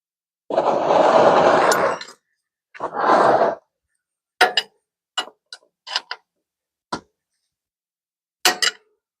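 A ratchet with a 17 mm socket snugs the oil drain plug on a Yamaha V Star 650 motorcycle: two short bursts of ratcheting, then scattered single clicks, close and alone.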